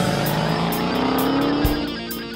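A 2015 Dodge Challenger Hellcat with its 707-horsepower engine droning loud and steady from inside the cabin, a sustained mechanical roar with a rising tone, rain noise mixed in, no voices.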